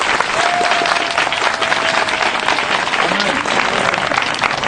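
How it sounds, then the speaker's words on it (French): A church congregation bursts into sustained applause, dense clapping from many hands with a brief cheer or voice rising through it, loud and steady throughout. "Est-ce qu'on peut l'acclamer?"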